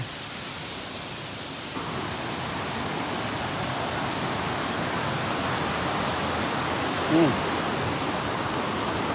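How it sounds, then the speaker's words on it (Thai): A waterfall pours with a steady, dense rush of water that swells slightly after the opening seconds, with a brief faint chirp near the end. "เสียงน้ำตกแค่เด่น"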